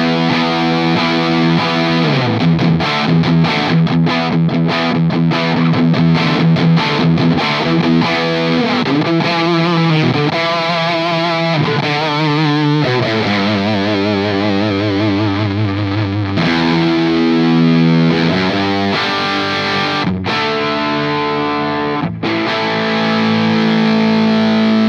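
An electric guitar plays through a PRS Mary Cries pedal with the output turned up for more drive. Loud, continuous distorted chords and riffs sound up close.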